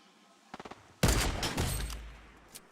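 Gunfire in the video game Fortnite: a quick burst of three or four light shots, then a heavier blast with a rattling, rumbling tail that fades over about a second, with one more faint shot near the end.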